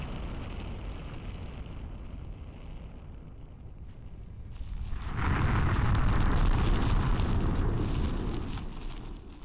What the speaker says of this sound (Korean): 1945년 7월 16일 오전 5시 29분 최초의 핵폭탄이 폭발합니다.